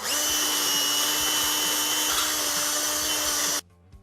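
A power drill fitted with sandpaper whirs at a steady high pitch with a gritty sanding hiss while repairing an old chair, running continuously and then cutting off abruptly near the end.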